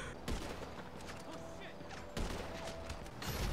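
Explosions and gunfire bursts in the video game GTA V, two heavy booms around a steady mechanical hum, with people talking over the action.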